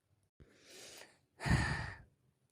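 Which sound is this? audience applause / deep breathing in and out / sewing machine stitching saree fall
deep breathing in and out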